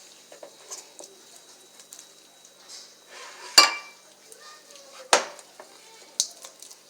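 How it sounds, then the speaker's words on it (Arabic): A spoon scrapes and knocks inside a bowl as butter and sugar are mixed for Syrian ghraybeh cookies, producing soft intermittent stirring with a few sharper clinks standing out. "نمزج المكونات كامل مع بعض كما اعتدنا"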